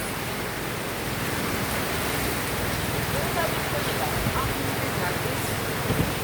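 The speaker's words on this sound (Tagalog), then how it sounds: "naghina na yung ulan, guys" Continuous hiss of steady rain falling on surfaces, even and broadband, with a few faint drips and knocks near the end.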